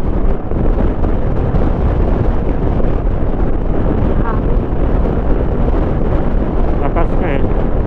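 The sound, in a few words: strong wind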